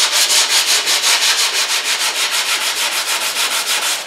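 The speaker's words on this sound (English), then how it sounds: "I'm going to use a block because I want a nice sharp edge on there, see? And I'm going to sand that just like that." A sanding block is rubbed by hand over Bondo filler on a fiberglass hood of a 1934 Ford coupe, making loud, close, rhythmic rasping strokes that repeat evenly at about four to five per second, with no voices.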